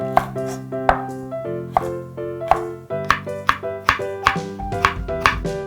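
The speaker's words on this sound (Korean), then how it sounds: "채를 썰어 주도록 하겠습니다." A knife slices red and yellow bell pepper into thin strips on a board, each cut landing as a crisp knock with a ringing tone, in a steady quick rhythm, close and clear with no talking.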